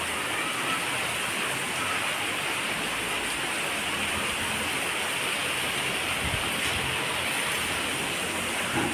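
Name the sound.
heavy rain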